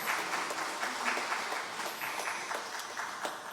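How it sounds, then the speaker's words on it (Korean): A church congregation claps during a prayer gathering after a hymn, a moderate, fairly even patter of many hands heard from a little distance, with no voices over it. "하나님께 영광과 감사의 박수 올려드리겠습니다"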